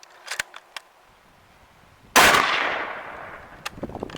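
A Yugoslavian Mauser rifle firing 8mm PPU 196 grain soft point ammunition outdoors lets off one sharp, loud gunshot with a decaying echo, preceded and followed by faint clicks and handling noises.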